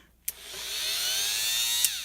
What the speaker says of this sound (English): Using my rotary tool. This is not a Dremel, it's JobMate with a cutting wheel on it.